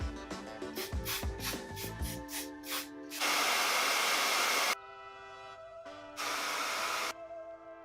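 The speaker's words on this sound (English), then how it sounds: "I'm just gonna spray a little." Got to Be Glued hair spray hissing onto a wig in two long bursts, one about one and a half seconds and another about a second, preceded by rustling and light handling noises, close and fairly loud with no talk.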